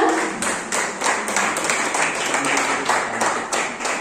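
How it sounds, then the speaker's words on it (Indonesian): Audience applause at a guest lecture on statistics, a steady run of many hands clapping at moderate loudness for about four seconds, with faint voices underneath. "kita beri tepuk tangan bersama"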